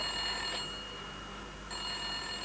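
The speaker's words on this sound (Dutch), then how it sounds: "Tweemaal de groene telefoon." A green telephone rings twice, two thin electronic ringing bursts separated by a short pause, faint over a low background hum.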